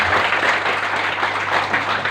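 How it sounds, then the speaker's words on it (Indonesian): Steady crowd applause from a seated audience, a short, even wash of many hands clapping at moderate loudness with a low hum beneath. "Jadi tepuk tangan yang mantap"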